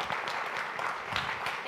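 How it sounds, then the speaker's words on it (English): A conference audience at TechFestNW claps for a speaker taking the stage, a short burst of mixed applause with some voices and stage noise running through it. "Please give her a round of applause."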